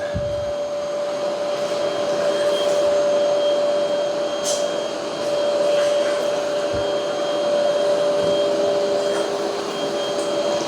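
A Roborock Curv 2 robot vacuum cleaning muddy floors drones loudly and continuously, with a steady high whine from its motor and occasional small clicks and knocks as it works.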